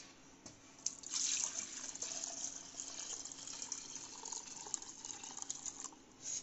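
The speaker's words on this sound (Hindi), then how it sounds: "तो अब दूध हम इसमें डाल देंगे।" Warm full cream milk is poured into a container, a steady liquid stream splashing and trickling for several seconds, close but fairly quiet, with a few small knocks.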